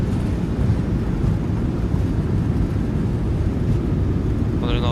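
Thrust reversers roar as a PMDG 737-800 lands in Microsoft Flight Simulator 2020, a dense, loud low rumble holding steady throughout, with a brief tonal chime near the end.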